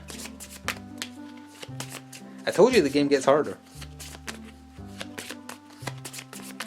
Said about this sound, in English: so I'm just going to shuffle it back into the deck